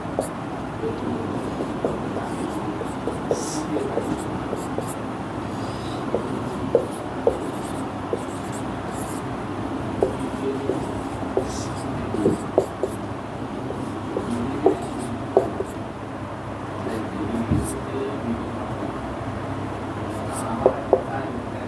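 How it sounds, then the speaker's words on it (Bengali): A pen scratches out letters by hand in short strokes, close but soft, beneath a steady low background rumble, with a person speaking intermittently. "তো এখন বড় হাতে ছোট হাতে লিখি"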